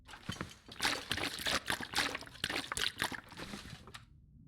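Water pours and splashes in The Long Dark survival game, a close, steady trickling stream with small sloshes running for several seconds before cutting off.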